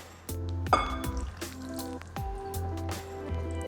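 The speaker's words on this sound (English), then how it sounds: "And I'll pour it into the dry ingredients." Liquid made from soy milk and melted vegan butter is poured into a bowl of dry ingredients, giving wet drips, squishy glugs and trickles with small clinks, close and unaccompanied by speech.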